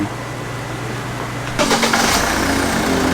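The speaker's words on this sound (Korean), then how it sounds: "시동 걸었습니다. 시동 걸고 이거 찍고 있는 겁니다." A Hyundai Santa Fe DM engine cranks and catches partway through, then settles into a steady idle with a low hum and some mechanical chatter.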